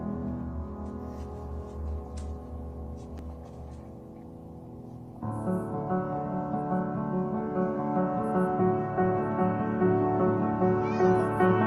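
A cat named Faith, formerly paralyzed, meows repeatedly in close, loud, drawn-out calls that swell and carry on without pause, no voices alongside.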